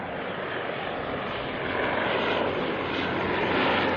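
A Dash 8 turboprop from Whangarei arriving at Auckland Airport gives a continuous loud, broad propeller and engine roar that swells slightly as it approaches, heard alone.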